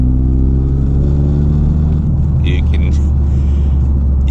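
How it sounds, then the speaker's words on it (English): A 2023 GR Corolla with an FI exhaust, valves open, produces a loud, continuous low drone and rumble with a rattly edge, heard up close from inside the car. "You can hear all that rattling."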